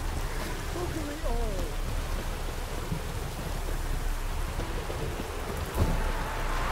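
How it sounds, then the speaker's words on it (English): Steady rain in The Witcher 3: Wild Hunt hisses throughout, a dense wash of falling drops with a faint low rumble and a brief knock near the end. "Looked like it would rain, and here it is."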